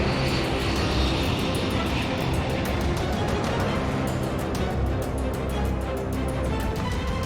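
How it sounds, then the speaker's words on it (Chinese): Military aircraft flying overhead in a war drama, a continuous loud engine roar that holds steady throughout, close and dense, with no clear talking over it. "发现有3架不明国籍飞机、2艘不明国籍军舰闯入我领海领空"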